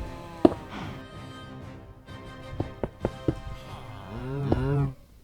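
Blocky cows in the CubeCraft SkyBlock video game let out low, drawn-out moos, one near the start and a longer one near the end, with a few sharp taps and thunks in between.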